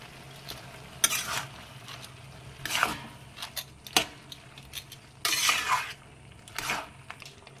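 Grated ginger paste is stirred in a frying pan over a low sizzle, with a utensil scraping and clinking against the pan in short bursts between quieter moments, close by and without talk.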